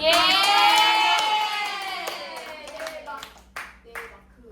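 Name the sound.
applause, clapping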